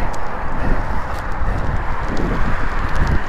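Steady, rough wind buffeting a microphone, a constant low rumble with gusty fluctuations throughout.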